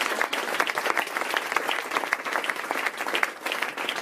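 Audience applauding sponsors at an event, a dense, steady clatter of many hands clapping throughout, close and fairly loud with no pauses.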